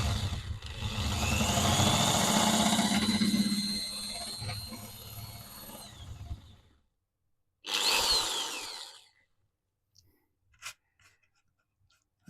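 A handheld power tool smooths a plastic surface on a model railway turntable in two bursts, a long whirring grind of about six seconds and then a shorter one, followed by a few faint taps.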